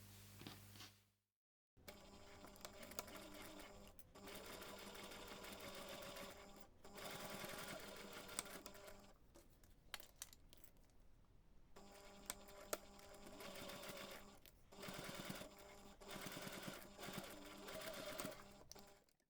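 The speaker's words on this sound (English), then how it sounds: "we can take those two pieces to the machine and top stitch along that folded edge" Sewing machine top stitching faux leather pieces, a close rapid mechanical whirring and clatter that runs in several long bursts with brief pauses between them.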